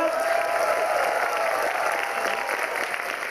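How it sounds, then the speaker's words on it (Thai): Audience applause for the nine teams at a talent show aboard the cruise ship Norwegian Star, a sustained even wash of clapping at moderate level, with some crowd murmur underneath. "ขอเสียงปรบมือแรงๆให้ทั้ง9ทีมอีกครั้งนึงครับ"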